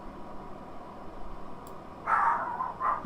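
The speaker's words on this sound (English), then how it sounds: "The dog's barking." A dog barks twice near the end, a fairly distant, muffled pair of woofs over a steady background hum.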